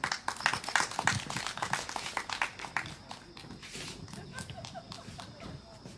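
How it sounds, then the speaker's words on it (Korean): Audience applause greeting a speaker walking up at a candlelight rally in Seongju, dense clapping loudest at the start, then thinning and fading over six seconds. "큰 박수로 맞이해주시면 고맙겠습니다"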